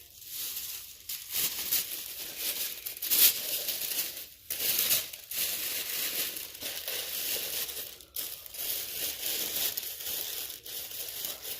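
Pink wrapping paper crinkling and crushing as it is stuffed into a glass for a Valentine gift basket, a close, continuous rustle with sharper crackling bursts and brief pauses.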